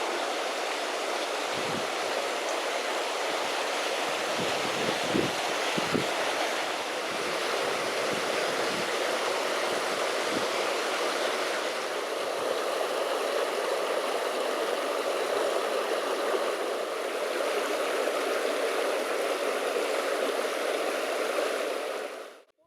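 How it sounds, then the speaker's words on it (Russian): A mountain stream flowing out of a kariz in Turkmenistan rushes steadily, a loud broad continuous wash of water, heard close and unbroken until it cuts off abruptly at the end. "А вообще этот ручей вытекает из Кяриза."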